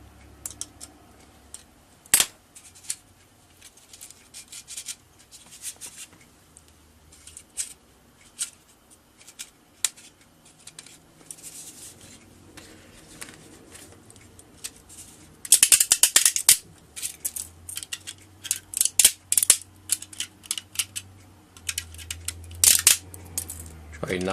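Hand tools scrape, click and pry support material away from a 3D-printed part, producing scattered small taps and rattles with a louder burst of scraping near the end, close and fairly quiet, with some low rumble underneath.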